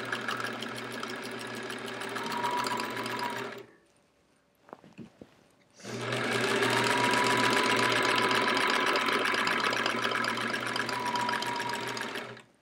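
A sewing machine stitches quilting lines across a sampler quilt, running in a steady, loud mechanical hum, pausing briefly with a few soft clicks, then resuming for a longer continuous run.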